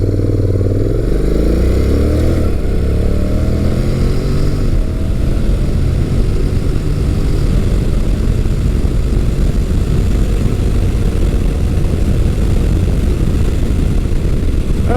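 Honda NC700X DCT ABS motorcycle ridden in sport mode, its engine droning loud and steady up close with rising pitch sweeps as it pulls through gears, wind rush layered over the continuous roar.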